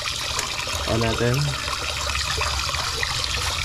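A car wash pressure washer sprays water in a steady, close hiss and rush, and someone speaks briefly over the spray partway through.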